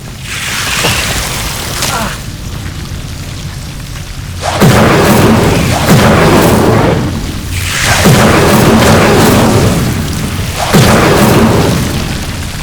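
Incendio fire spells cast in Hogwarts Legacy against Devil's Snare, each a loud whooshing, booming blast of flame, four bursts in steady succession over a rumbling game backdrop.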